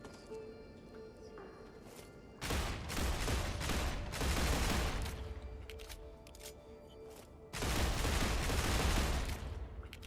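Gunfire erupts in the sci-fi automation game Star Rupture as a player shoots at a tough enemy. Two long, loud bursts of rapid shots are separated by a quieter stretch of lighter firing.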